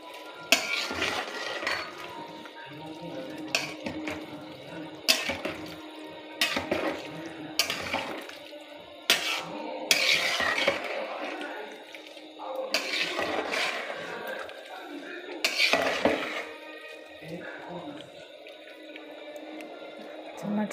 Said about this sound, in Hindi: इसको हम एक बार खोल के चम्मच चलाएंगे